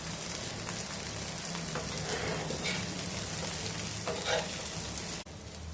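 Gulivinda fish frying in a pan, a steady close sizzle with crackling bursts running for several seconds before cutting off abruptly near the end.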